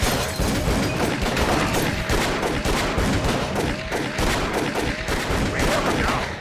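Rapid gunfire in the video game Call of Cthulhu: Dark Corners of the Earth, dense overlapping bursts of shots firing continuously and loudly from start to finish.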